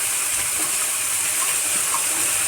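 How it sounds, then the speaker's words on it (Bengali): Cabbage pieces frying in a pan for a cabbage ghonto give off a steady, close hiss and sizzle that holds evenly throughout with no pauses. "পাতাকপিটা খুব সুন্দর করে ভেজে নিতে হবে।"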